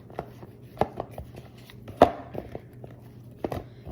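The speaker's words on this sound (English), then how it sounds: "Mash it all together." Seasoned meat with parsley is mashed and stirred by hand in a bowl, giving sharp, irregular knocks and scrapes of a utensil against the bowl, fairly close and moderately quiet.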